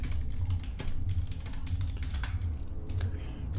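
Rapid, steady clatter of keys on a computer keyboard, close and continuous with irregular loud strikes, while a player races through Ultima IX: Ascension.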